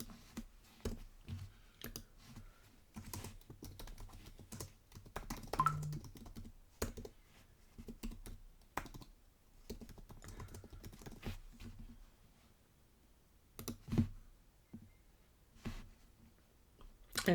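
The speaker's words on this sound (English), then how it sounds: "it takes me a while to get used to typing on this keyboard" Typing on a desktop computer keyboard, with quiet, close key clicks in irregular bursts and short pauses, sometimes a sharper single tap, and no talking.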